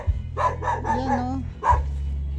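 A dog barks several times in quick succession outdoors near a yard with fruit trees, moderately close, under a continuous low motor hum, with someone speaking over the barks.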